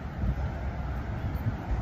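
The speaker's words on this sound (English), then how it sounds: "I think it's a little bit windy." Steady outdoor wind buffeting a microphone, a continuous low rumbling roar that stays loud and fairly even for the whole short stretch, with no other clear sounds on top.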